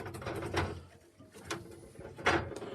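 Soft cooing of racing pigeons in a box close by, a few low murmuring calls with brief gaps and faint shuffling in between.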